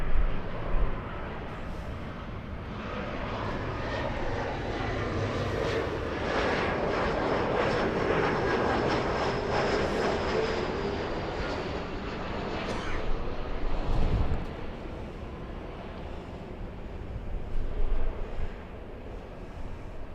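A SkyWest Embraer E175 airliner arrives at LAX in Los Angeles, its jet engines a broad roar that swells through the middle and then fades, with gusty wind rumble in the background.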